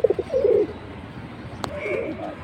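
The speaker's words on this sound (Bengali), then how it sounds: "কবুতর দেখেন, কাজ করা কবুতর ভাই" Pigeons coo nearby in a few low, throaty rolling calls near the start, followed by quieter cooing and light background noise.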